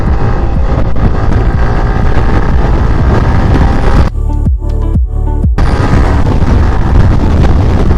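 A Yamaha R15 motorcycle's exhaust roars loud and close with a steady, wind-buffeted drone, dropping out briefly in a few sharp gaps before the revving picks back up.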